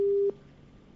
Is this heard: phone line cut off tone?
yes